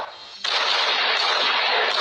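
A handgun goes off in a loud, harsh burst that starts abruptly after a quieter moment and holds as a sustained, noisy blast close to the listener, with no talking.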